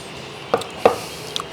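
A knife cutting onions thinly on a board, two distinct soft thuds spaced apart followed by a faint tap, quiet and close.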